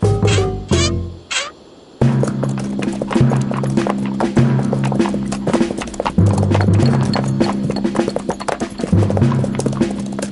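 A horse gallops in an animated Western, its rapid, steady hoofbeats loud and close over a sustained musical backing, after a few sharp opening hits.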